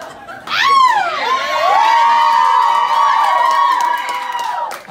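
A concert crowd at Rumba Cafe cheers loudly, with shrill whistles and shouts rising over a sustained wash of applause-like noise that fades near the end.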